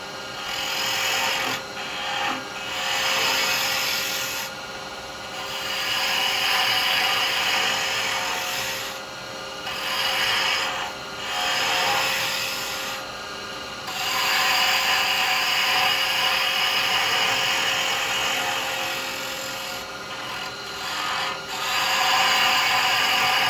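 A carbide chisel cuts a slight taper into spinning wood on a lathe while turning a Christmas nutcracker figure. The scraping, rasping hiss runs steadily and close, with a few brief pauses as the tool lifts; no one speaks.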